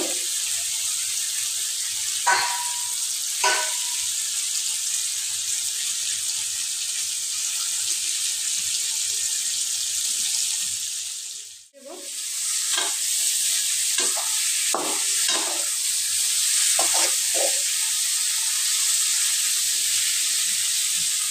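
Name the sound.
cut pangas fish added to sizzling spice paste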